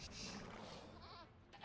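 Goats bleating in the real-time strategy game Age of Empires II, a short, close burst of wavering animal calls over a steady game background.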